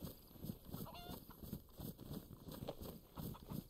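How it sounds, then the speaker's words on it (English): A chicken clucks in the DayZ game world, with a few short, high clucks over steady ambient noise and soft, rhythmic thuds. "that fucking chicken isn't helping"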